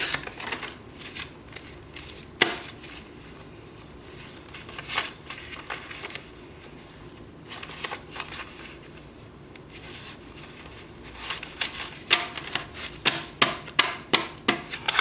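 Paper cash banknotes being counted by hand for cash envelopes, a series of soft crisp flicks and riffles, irregular at first and then quicker near the end, close and quiet with no talk.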